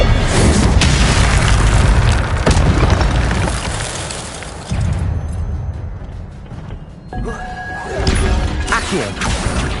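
Incendio fire spell cast in the video game Hogwarts Legacy, heard as loud, dense fiery blasts and rumbling booms that fill the clip, swelling again near the end with no talking.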